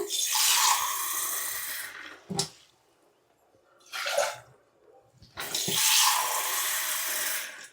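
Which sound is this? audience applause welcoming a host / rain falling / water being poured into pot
water being poured into pot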